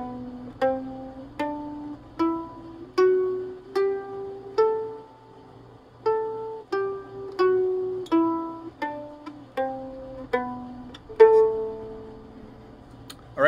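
A mandolin plays a G Dorian mode scale, starting and ending on A, in single picked notes, climbing and then descending at a steady, moderate pace, each note ringing clearly with no voices.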